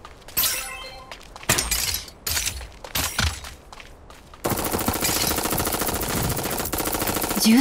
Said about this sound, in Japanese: 銃声が聞こえた。